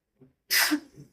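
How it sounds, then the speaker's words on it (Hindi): A single sharp sneeze bursts out loud and close, a brief breath-like intake just before it and a little murmur trailing after. "तू छींक रहा, तेरे छींकने के साथ मुझे भी छींक जैसी फीलिंग हो।"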